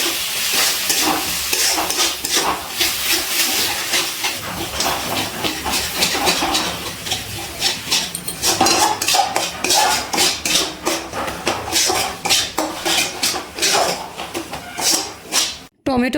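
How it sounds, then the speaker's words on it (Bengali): Spice paste stirred and fried with jackfruit and prawns in a pan for a Bengali echor chingri dish, a steady sizzle with repeated scraping strokes of the spoon, close and loud, with a brief voice now and then. "খুব ভালো করে মশলার সাথে মিশিয়ে আবারও সব কিছু একটু কষিয়ে নিচ্ছি।"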